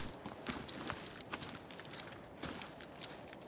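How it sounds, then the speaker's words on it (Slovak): Faint, scattered footsteps from the Arena Breakout Infinite video game on the Farm map: a few soft, irregular steps set against low background ambience. "Počul som nejaké kroky."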